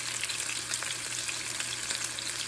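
Jerk chicken gravy sizzles hard in a pan on a turned-up stove as it is stirred, a dense continuous frying hiss with soft scraping, close and loud, no talking.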